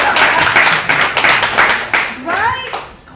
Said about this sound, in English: Now, clap if you have ever ended up at Denny's at midnight for no good reason.